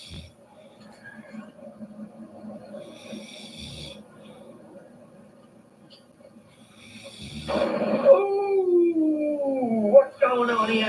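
A dog starts with quiet snorting, snore-like breaths, then breaks into loud, wavering howls that rise and fall in pitch over the last few seconds.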